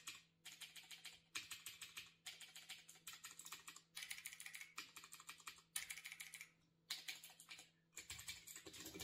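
Mechanical keyboards with blue switches are typed on in quick bursts of sharp, clicky keystrokes, close and fairly quiet, separated by short pauses.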